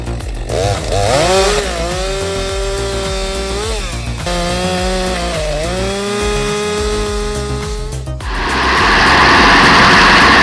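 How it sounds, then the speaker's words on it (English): A Stihl MS 462 chainsaw bites into a 32-inch oak log, the engine holding a loud bogged-down whine near the mic that rises and falls with load before revving up into a harsh roar. "A 32-inch oak log is swiftly cut by the Stihl Mississippi 462 with 35 kilonewtons of torque."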